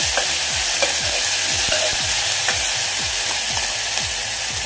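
Tomatoes sizzle and fry steadily in a pan on a gas flame, with a spoon scraping through them in a regular stirring rhythm roughly twice a second, close and loud over a constant hiss, without speech.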